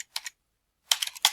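Someone types a web address on a computer keyboard. There is a short burst of a few crisp keystrokes, a pause, then a quicker run of clicks, heard up close.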